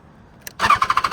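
A 2016 BMW S1000XR motorcycle engine cranks and fires up, a brief click followed by the starter catching and a quick, pulsing idle that settles into a steady rhythm, close and fairly loud.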